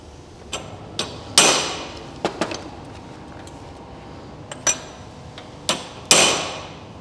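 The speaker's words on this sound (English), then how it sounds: "Need a bigger hammer there." Hammer blows in a workshop during a job freeing a stuck part near a manifold: a handful of sharp, fairly close metallic strikes, some single and some in quick pairs, spaced irregularly over several seconds with quiet between them.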